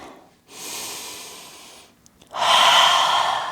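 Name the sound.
deep breathing during yoga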